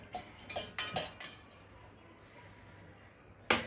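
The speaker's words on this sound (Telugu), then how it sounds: "ఇంకా తడిగుడ్డ పెట్టి కొంచెం తుడిస్తే బాగుంటుందండి నీట్గా" Brass and copper vessels are wiped with a damp cloth and handled, giving several short metallic clinks and knocks in the first second, a quieter stretch, then one sharp clank near the end.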